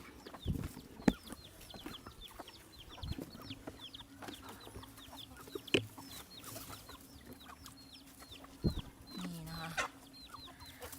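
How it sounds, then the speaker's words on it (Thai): Many chickens cluck and squabble while feeding alongside elephants, a busy chorus of short clucks and occasional crowing layered with scattered clatter and a few brief louder bumps. "ไก่เยอะมากเลยไก่"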